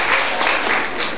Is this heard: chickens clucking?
no